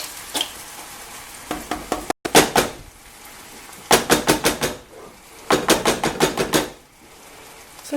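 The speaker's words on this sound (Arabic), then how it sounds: "وغادي نحرك مزيان وتغلى عندي شويه هاد لا كريم" Crème fraîche sauce being stirred in a pan as it simmers, with bursts of scraping and sizzling stir strokes in several clusters separated by short quiet gaps, close and fairly loud.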